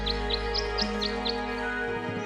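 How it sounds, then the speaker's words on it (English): Birds at a bird bath in the video game Tangle Tower sing a short tune of six bright rising chirps in even succession over a steady musical drone. "The birds seem to like it. They're even singing a little tune."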